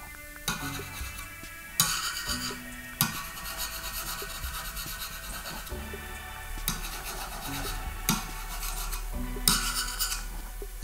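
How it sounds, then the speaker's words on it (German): A screwdriver is dragged repeatedly over a titanium-coated katana blade, making scraping, rasping strokes in a slow, irregular rhythm with short gaps between passes, close and moderately loud. "Ich kann hier ohne Probleme mit dem Schraubenzieher drüber gehen."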